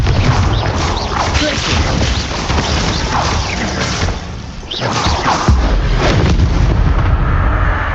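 Repeated Confringo fire spells burst in Hogwarts Legacy, a dense, loud run of booming, crackling explosions with rumbling debris that continues almost without pause, dipping briefly before resuming.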